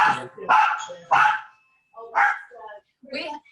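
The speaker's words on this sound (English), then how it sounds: "The dogs are back barking again." Dogs bark excitedly in a home kitchen while salmon goes into the oven, five or six loud, close barks arriving in uneven bursts with short pauses between them.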